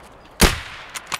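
A single loud, sharp gunshot from the video game Escape from Tarkov, followed by a couple of fainter metallic clicks in a quiet backdrop, with no speech.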